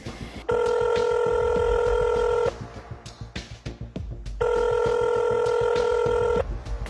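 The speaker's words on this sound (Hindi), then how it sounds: "मैंने डॉक्टर कमर हाशमी को कई दफ़ा कॉल कर रही हूँ, वो नहीं उठा रहे।" An unanswered outgoing phone call rings twice, each ring a steady electronic tone lasting about two seconds with a pause between, heard faintly against low background room noise.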